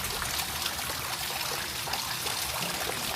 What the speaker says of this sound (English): Here's a beautiful fountain area. I love the sound of water.